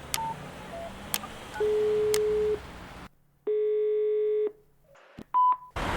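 Telephone tones heard close up on a mobile handset: a few short beeps and a held tone, then a steady multi-tone signal, a pause, and a final pair of beeps, all over faint background hiss.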